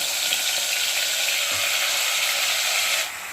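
Marinated mutton hits a pan of frying green chillies, giving a steady, loud, hissing sizzle close up that drops off slightly near the end, with no talking.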